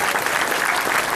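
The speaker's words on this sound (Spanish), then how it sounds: "Fuertes aplausos para nuestro Señor de los Milagros" A brief burst of loud crowd applause at a neighborhood tribute to the Señor de los Milagros in Paiján, Peru, dense continuous clapping from many people.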